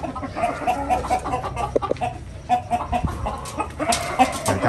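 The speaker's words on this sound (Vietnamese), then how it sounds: "Gà trống bự luôn, tướng tá con nào thấy khủng khiếp luôn." Rooster and hens clucking in a home garden in the morning, with repeated close clucks and calls over steady outdoor background noise.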